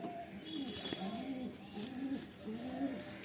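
An adult pigeon coos in a repeating low, rolling call, three or four phrases close by over a steady background hiss.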